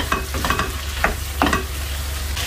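Chicken pieces with spice mix are stir-fried in a pan, with a steady sizzle and several scraping stirs of a spatula, close and loud, with no talking.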